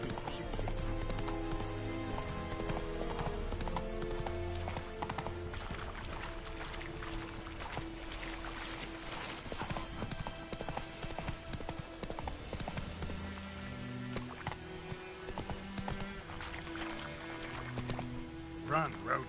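Roach, Geralt's horse in The Witcher 3, gallops in a steady clip-clop rhythm of hooves beneath a loud orchestral game score, with voices speaking at times.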